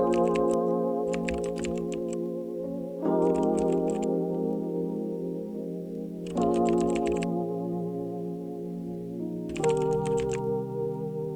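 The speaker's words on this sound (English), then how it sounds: "I grabbed a Rhodes and played in this sort of dark sounding chord progression using minor chords," A Rhodes electric piano plays a slow dark progression of minor seventh, ninth and eleventh chords, each held for about three seconds, with a crisp hi-hat pattern ticking in short bursts over it.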